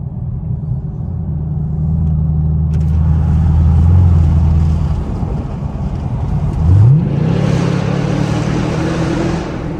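A straight-piped Camaro SS drives through a tunnel at night, its loud exhaust booming and echoing in a deep rumble that swells, eases, then rises sharply again as the engine revs.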